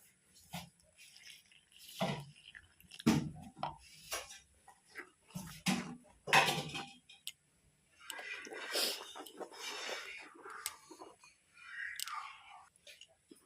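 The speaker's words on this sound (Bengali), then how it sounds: "দেখুন, এভাবে আমি ব্যাটারটাকে 5 মিনিট এভাবে মিক্সড করতে থাকবো।" Fish fry batter being mixed by hand in a bowl for amudi fish: wet squelching and sloppy stirring in irregular bursts, close and fairly quiet, with brief pauses between strokes.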